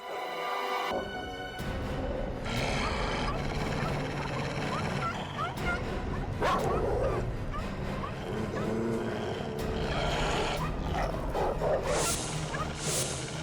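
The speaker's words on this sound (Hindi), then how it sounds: "कुत्तों के भौंकने की आवाज पीछे की तरफ से आ रही है" Dogs bark intermittently in the background amid a busy, noisy outdoor scene with other animal sounds and general clatter.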